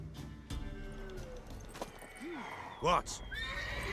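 Horse whinnies in The Witcher 3, two rising-falling neighs with the second louder and closer, over hoof clip-clops and game ambience, with brief speech.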